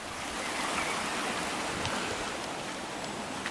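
The Bride's Burn flows into the Annick Water at Stewarton, a steady, close, broadband rush of running stream water with no voices.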